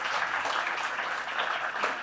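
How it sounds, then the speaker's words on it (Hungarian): An audience at a talk event applauds steadily, a dense, even wash of many hands clapping at moderate volume for the full two seconds with no one speaking over it. "Köszöntsétek őt, léci, egy jó kis tapssal"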